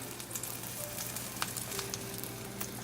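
Omelette frying in a pan over a medium gas flame, a soft steady sizzle with faint crackles and pops throughout, quiet and close with no voices.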